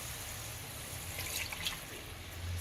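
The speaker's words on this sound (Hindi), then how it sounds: "इसमें मैंने शामिल कर दिया थोड़ा सा पानी।" A little water is poured into cooking masala in a pan while making Hyderabadi baingan, a soft, faint trickle and splash running for a couple of seconds over quiet kitchen background.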